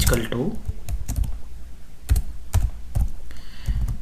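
Keys clacking on a computer keyboard as PHP code for a database query is typed, coming in short uneven bursts of clicks with pauses between them, close by and fairly clear.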